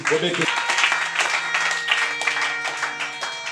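A church congregation applauds and cheers for Jesus during a French-language sermon, dense clapping spread across the room with a short burst of voices at the start, steady and fairly loud throughout.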